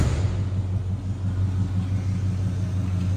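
A 1982 Chevrolet Monte Carlo idles with a deep, steady engine rumble, close and loud, holding an even low throb throughout with no voices.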